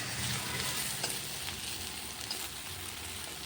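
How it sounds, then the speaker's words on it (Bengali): Mushrooms fry in a pan with a dense, steady sizzle and occasional small pops, close and even from start to finish, with no speech. "তো চলো কোড়া এইগুলো সব মাশরুমগুলো ভেজে নিই"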